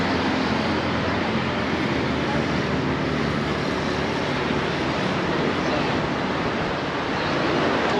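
Surf breaking along a beach in Mumbai, a steady, loud wash of broadband noise throughout with breezy wind mixed in and no clear individual wave crashes.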